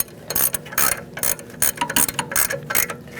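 A ratchet wrench tightens bolts on the rear wheel hub of a Mercedes-Benz C300, heard as loud, close rapid clicking in quick repeated bursts, with no talking.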